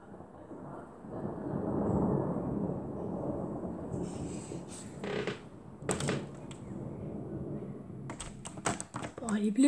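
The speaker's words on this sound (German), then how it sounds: "Boah, die Blitze schlagen ganz schön oft ein." Deep thunder rolls and rumbles through a strong thunderstorm with frequent lightning, swelling then fading, followed by sharp crackling snaps. A voice murmurs faintly in the background.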